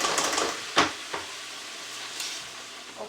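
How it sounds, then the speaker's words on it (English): Steady, close hiss of calamari bubbling in hot oil in a deep fryer, with a few soft clinks and stirring sounds over the constant sizzle. "I'm going to toss some more into my deep fryer to get the rest of them frying"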